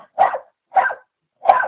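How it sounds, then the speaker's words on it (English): A large dog barks three times at steady spacing, each bark short, loud and close, with silence between and no talk. "They fight giant dogs."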